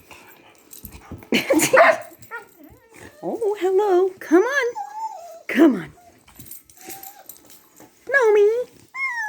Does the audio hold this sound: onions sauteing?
no